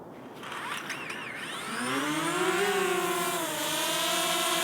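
A DJI Mini 2 drone spins up for an automatic takeoff, its small propellers rising into a steady, close, high-pitched whine that climbs in pitch and then settles into a constant hover buzz, with no one speaking.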